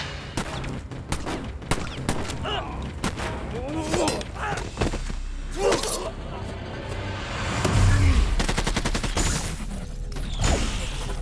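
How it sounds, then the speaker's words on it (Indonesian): A heavy gunfire barrage in an action film fight, with rapid cracking shots and booming impacts layered densely over rumbling low blasts, continuous and loud throughout with voices mixed in. "Di tengah gempuran tembakan, Max CS berusaha melarikan diri"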